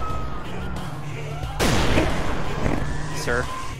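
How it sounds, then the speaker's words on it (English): A loud explosion in the SCP video game erupts suddenly partway through, a broad blast with a lingering crackling tail, heard over game ambience and a low hum. "Wait, you stood too close to the explosion."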